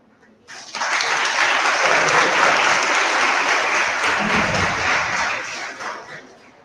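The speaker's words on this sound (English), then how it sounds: "It should be a big round of applause." Audience applause at a one-day web development workshop, a loud sustained burst of clapping that swells quickly, holds steady for several seconds, then tapers off.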